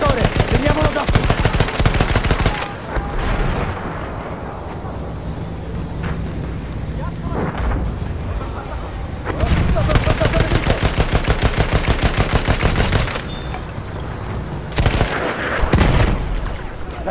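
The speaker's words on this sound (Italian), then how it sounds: "Attenzione, mitragliatrice nemica!" Enemy machine gun in a World War One game rattles in long rapid bursts, loud and close, broken by brief pauses and mixed with other battlefield gunfire and shouting voices.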